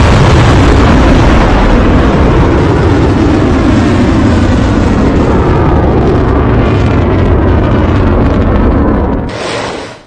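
Ballistic missiles striking in Israel produce a loud, sustained explosive roar and rumble that fills nearly ten seconds before cutting off abruptly.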